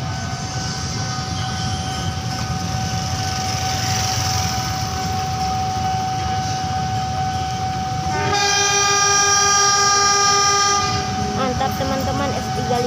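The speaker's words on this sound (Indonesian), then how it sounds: "udah mau bunyikan semboyan 40, 41 dan semboyan S35" Train horn sounding an S35 signal at Pasar Senen station, a loud sustained multi-tone blast rising over steady rail yard noise and murmured voices, lasting a few seconds near the end.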